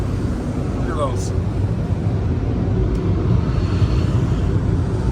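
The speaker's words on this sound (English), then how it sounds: "But it's kind of blowing the car dry" Powerful car wash blowers roar over a car inside an automated high-tech car wash, a loud, steady broadband rush with low rumble throughout.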